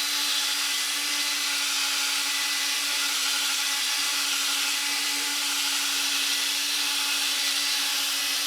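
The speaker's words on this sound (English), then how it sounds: "Just gently on your drill as you're buffering, or your buffering machine, whichever you use." A drill fitted for buffing a car headlight whirs in a steady, high-pitched drone for the whole stretch, close and constant, with no talking.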